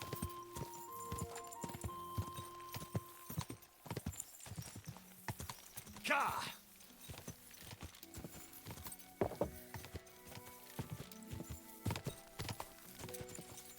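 Horse hooves clip-clop steadily on the ground in the medieval game Kingdom Come 2. The close, rhythmic hoofbeats run throughout, with a brief snort or whinny midway and a single short shouted word.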